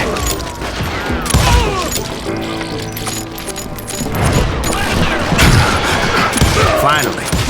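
Gunfire in the Western video game Call of Juarez Gunslinger: a loud, rapid volley of sharp shots and cracks in irregular bursts, with booming impacts and shouting voices mixed in.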